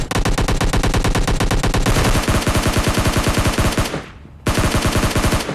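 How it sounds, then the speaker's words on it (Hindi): Automatic gunfire in the PUBG Lite video game, fast continuous bursts of loud, close rapid shots that briefly pause for about half a second before resuming at full intensity. "जब वो गन शॉट की आवाज आ रही है ना, अब ये ऑटो में चल रही है।"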